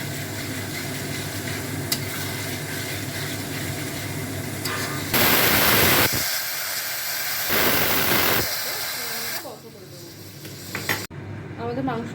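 Garlic and ginger paste sizzles and hisses in a hot pan, a steady loud frying sound with stirring, rising sharply partway through and then settling, while a voice speaks over it.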